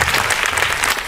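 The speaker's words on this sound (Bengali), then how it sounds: "দর্শকবৃন্দকে অনুরোধ করছি একটা জোরে হাততালি দিয়ে আমাদের শিল্পীদের" A theatre audience at a full-length play claps for the actors, a brief burst of dense, steady applause from many hands.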